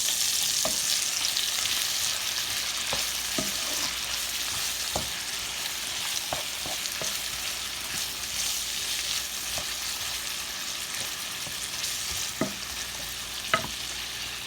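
Onion and bacon sizzle steadily in a pan for string beans, a constant hiss broken by occasional scrapes and taps of a utensil against the pan.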